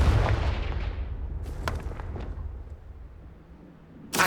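Confringo blasting spell explosions in the Hogwarts Legacy video game: a heavy booming blast at the start, then several sharp cracking bursts in the middle, and a final loud burst at the end.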